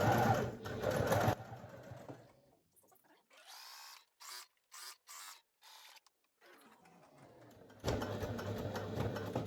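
A sewing machine runs a parallel seam with backstitching, loud bursts of stitching at the start and end and short stop-start runs in between, with quiet pauses.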